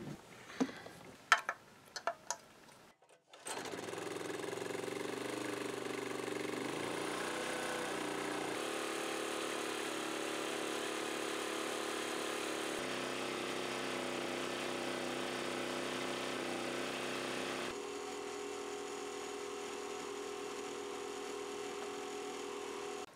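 Petrol generator engine running steadily at close range, a continuous droning hum that holds for about twenty seconds after a few sharp knocks and rattles at the start, with no talking over it.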